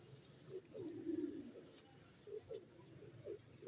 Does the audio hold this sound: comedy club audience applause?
no